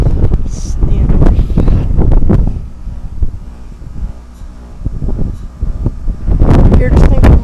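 Strong outdoor wind buffets a microphone beside a 2008 Goodman heat pump, loud low rumbling gusts that swell and ease repeatedly, with a voice speaking briefly over the blustery roar.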